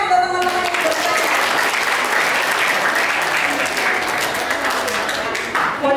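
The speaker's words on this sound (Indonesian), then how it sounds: "Beri tepuk tangan untuk teman-teman yang bertanya." Loud, sustained applause from an audience at a digital literacy seminar in Indonesia, a dense continuous wash of clapping for the participants who asked questions, with some talk mixed in underneath.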